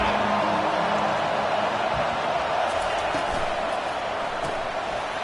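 Football stadium crowd at the FSU vs Oregon game roaring on a third down, a dense, loud, sustained wall of cheering and noise with no break.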